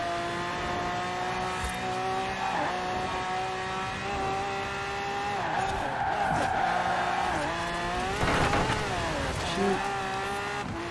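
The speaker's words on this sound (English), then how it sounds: "I can hear a Koenigsegg behind us." A Koenigsegg supercar driving close behind on the road during a long race, its engine revving and rising in pitch with sweeping accelerations and shifts, loud and continuous throughout.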